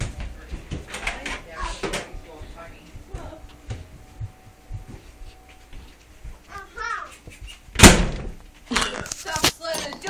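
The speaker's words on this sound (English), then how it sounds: "Stop slamming the door, brat." A door slams once hard at about the midpoint, with a few smaller bumps and knocks around it, amid a voice and playful chatter in a home.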